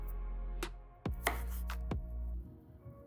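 Knife chopping potatoes on a cutting board: a few sharp, separate knocks spaced irregularly across a short stretch, close and fairly loud over a low steady background hum.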